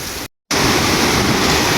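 Floodwater after a typhoon rushes down from the mountain toward the shore in a loud, continuous roar, cut by a brief dropout near the start, with no talking.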